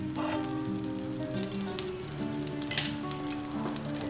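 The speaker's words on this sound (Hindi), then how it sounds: "बटर को मेल्ट होने देंगे अच्छे से" Butter melting in a hot pan before pancake batter goes in, giving a steady, soft, close sizzle that crackles evenly throughout with no talking.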